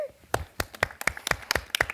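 An audience at a high school quiz competition welcomes the Faith Lutheran High School team with steady, spaced-out hand claps, a modest crowd clapping at a moderate pace.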